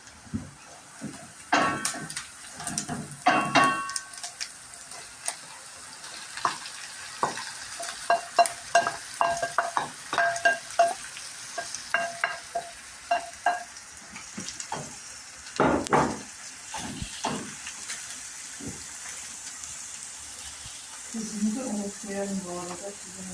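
Wild foraged greens (melocan, kırçan, thistle tips) fry in a pan with pepper, a soft sizzle under intermittent stirring knocks and scrapes, with occasional speech.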